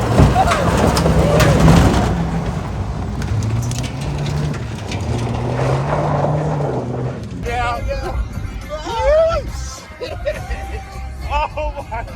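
Toyota TRD Pro Tacoma drifting and jumping on an off-road course, loud rumbling engine and crunching tires up close, followed by excited shouting and cheering from passengers inside.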